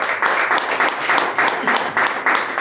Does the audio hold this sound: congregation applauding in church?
yes